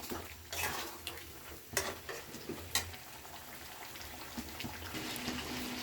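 Spices with turmeric powder being stirred and fried in a pan: a soft, steady sizzle with occasional scraping clinks of a spoon against the pan, no talking.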